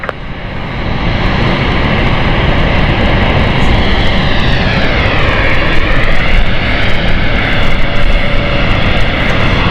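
An airliner landing on runway 27 at London City Airport, a loud continuous roar of jet engines close by for nearly ten seconds, with a sweeping whine shifting in pitch as the aircraft passes.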